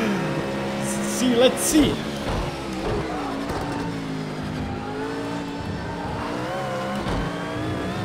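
A GT1 race car engine in the Project Cars 2 racing game at Donington Park drones and revs steadily through the lap, shifting pitch as it accelerates, with someone talking over it throughout.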